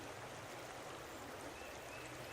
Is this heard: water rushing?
yes